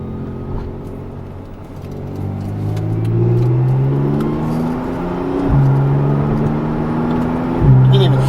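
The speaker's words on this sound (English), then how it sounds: "the dual clutch transmission phenomenal. As soon as you touch the paddle shifters, it shifts. Sounds great." A Porsche 911 Turbo S with a dual-clutch gearbox accelerates hard, its engine note climbing steadily, with quick instant upshifts dropping the pitch twice, heard from inside the cabin.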